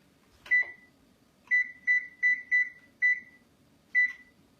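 An oven control panel beeps while being set to preheat to 325 degrees: one beep, a pause, then a quick run of five evenly spaced electronic tones and a final lone beep. The beeps are clear and close against a quiet room.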